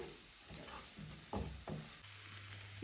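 Potatoes with spices roasting in a pan for aloo sabzi, giving a faint steady sizzle broken by a few short scraping stirs, close and quiet with no talk.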